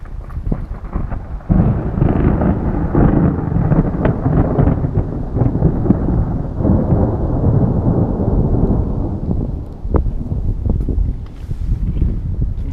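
Deep, sustained thunder rumbles continuously during rain at the Blue Lake in Vynohradar, Kyiv, with wind buffeting the microphone, steady and loud throughout.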